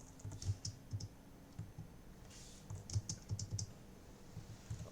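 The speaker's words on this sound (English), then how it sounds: "So now if we press spacebar," Computer keyboard keys, including the spacebar, click in a quiet, uneven string of soft taps, with faint ambient hiss between presses.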